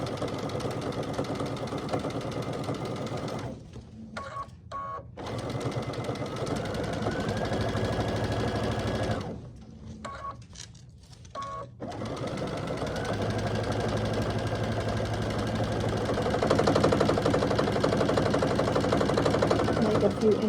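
A sewing machine stitches a pumpkin door hanger, its motor running in a steady mid-pitched whirring hum, with brief pauses between stitching runs.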